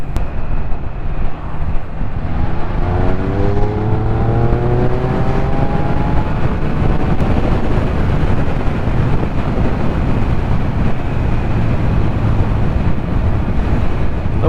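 A Triumph Speed Triple RS naked motorcycle engine pulling hard under acceleration, a loud rising tone under constant roaring wind noise from riding at speed.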